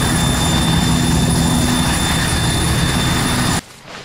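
Helicopter in the military shooter ARMA 3, a loud steady rotor and engine roar holding constant throughout before cutting off abruptly near the end.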